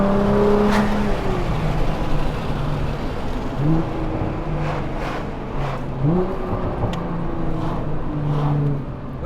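A Nissan GT-R NISMO R35 pulls hard with its engine note climbing through several gears, each rise broken by a short dip at the shift, loud and close with a steady whirring undertone.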